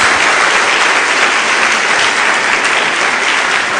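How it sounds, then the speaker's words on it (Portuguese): A church congregation breaks into loud, dense applause, an even roar of many hands clapping without pause for several seconds, with no voices on top. "Dê uma salva de palmas a Jesus."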